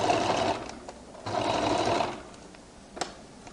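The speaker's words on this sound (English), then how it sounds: "I roll it open and I now begin to stitch." A sewing machine stitches a flared skirt in two bursts of rapid, close whirring, followed by a pause and a small clack.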